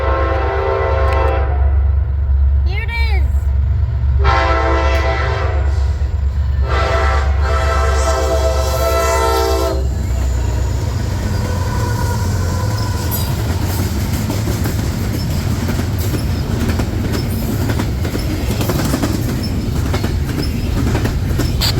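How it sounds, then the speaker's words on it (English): A freight train led by a rebuilt SD60E diesel locomotive rumbles past close by, sounding a loud horn in several blasts before wheels clatter and squeal on the rails. "This train is led by another rebuilt ST60E"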